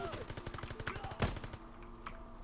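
Quick rhythmic gunfire in the shooter game Call of Duty WWII, in hardcore team deathmatch, rattles at moderate distance with one louder crack partway through, fading toward the end.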